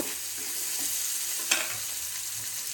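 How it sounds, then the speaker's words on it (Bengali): Garlic and onions fry in a pan, giving a continuous close hiss and crackle with a brief louder stir partway through and no talking. "রসুনগুলো ভাজা ভাজা হয়ে গেলে হবে না, লাল লাল করে ভাজা হলে"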